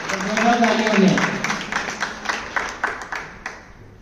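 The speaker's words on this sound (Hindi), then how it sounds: "जोरदार तालियां हो जाए।" A crowd at a school prize ceremony in Nawalgarh claps for a student's mother, dense applause starting strong and gradually thinning out into scattered claps.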